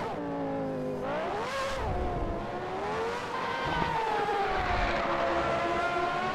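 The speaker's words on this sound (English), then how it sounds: "this car sounds like a monster." Engine of the 1990 McLaren F1 race car in Assetto Corsa, a loud high-pitched whine that climbs and drops through repeated revs and gear changes, with rumbling tyre and track noise beneath.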